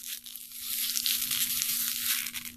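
A plastic drink bottle is crushed by hand, giving a loud, continuous crackling crunch for a couple of seconds, close up, with no talking.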